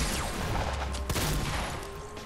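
Gunfire in the Fortnite video game, with a sharp loud shotgun blast standing out from a dense, busy mix of game effects and rumble.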